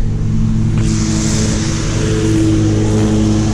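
A Subaru Legacy engine running nearby during clutch cable replacement, a loud steady drone with a faint rise in pitch partway through, no voices.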